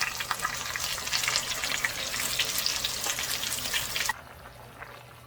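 Seasoning sauce hits a hot frying pan with a close, steady sizzle and liquid bubbling, cut off abruptly near the end to a quieter hiss, like a lid or the heat being lowered, in a Korean home kitchen.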